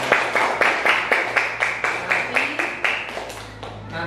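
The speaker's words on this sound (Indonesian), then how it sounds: "Sekarang beri tepuk tangan untuk kelompok yang sudah tampil." A classroom group gets applause after presenting, a burst of hand claps in a fairly regular rhythm, close and fairly loud, tapering off toward the end.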